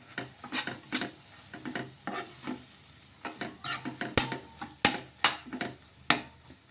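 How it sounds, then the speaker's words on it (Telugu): Moong dal and egg mixture stirred in a pan, giving a steady run of close, rhythmic scraping strokes about every half second, with a faint sizzle beneath. "ఇలా మధ్య మధ్యలో కొంచెం కలుపుకుంటూ ఉండాలి"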